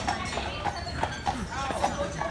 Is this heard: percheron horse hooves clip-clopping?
yes